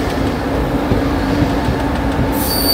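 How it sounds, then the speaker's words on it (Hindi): A diesel-hauled express train rolls into Rajpura Junction, its steady loud rumble and rail noise continuous throughout, with a brief high squeal of wheels near the end. "ये आ गया राजपुरा जंक्शन"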